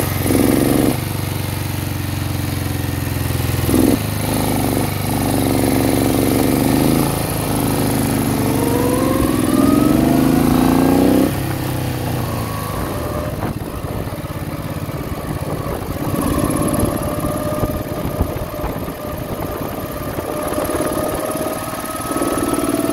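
A 1968 Moto Guzzi V7 700 with freshly sleeved cylinders is ridden, its engine droning steadily and rising and falling in pitch through gear changes, with continuous wind and road noise throughout.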